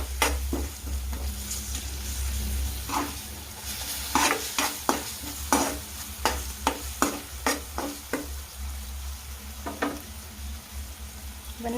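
Coriander, chicken masala and biryani masala powders stirred and frying in a pan for soya chunk biryani, a low steady sizzle under repeated sharp scrapes and knocks of a spoon against the pan, close and irregular.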